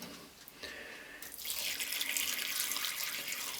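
Water is poured into a pot of quinces layered with equal parts sugar for a spoon sweet, a soft trickle that swells into a steady, close splashing stream.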